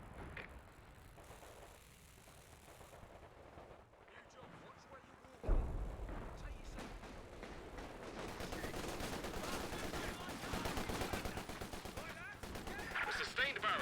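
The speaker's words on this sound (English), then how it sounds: "A sustained barrage is being fired as ordered." Artillery barrage in Company of Heroes 2: a sustained bombardment rumbles and booms, starting quietly, then rising to dense, continuing blasts and crackling gunfire, with battlefield voices mixed in.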